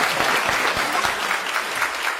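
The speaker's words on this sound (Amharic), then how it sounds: "ችግር የለም እኛ እናጨበጭባለን።" An audience at a school gathering claps steadily, a continuous, fairly loud patter of many hands with brief murmurs underneath.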